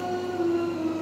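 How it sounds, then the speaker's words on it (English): Harry Potter theme tune playing from a YouTube video in a home kitchen with oven work going on, a sustained steady melodic tone heard faintly at low level with no talk over it. "It's the theme tune to Harry Potter."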